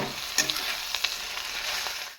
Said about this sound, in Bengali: আদা রসুন আর কাঁচা লঙ্কাটা দিয়ে দিয়েছি, এবারে ভালো করে মিশিয়ে ভাজা ভাজা করে নেব।